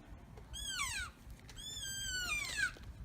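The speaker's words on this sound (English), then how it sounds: "and then a calf call." An elk calf call blown on a game call: two high, sliding mews that drop in pitch, close and fairly loud, with no voices over them.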